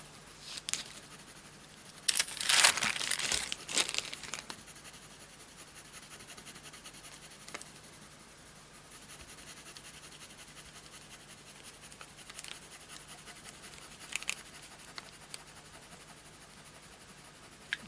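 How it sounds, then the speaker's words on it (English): A pastel pencil rubs back and forth on Clairefontaine Pastelmat paper, giving faint, soft scratchy strokes that come in short bursts separated by quiet stretches. "So I'm keeping my pencil on the paper here,"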